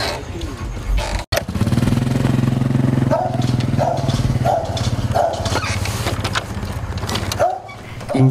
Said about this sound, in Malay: Enjin motosikal dihidupkan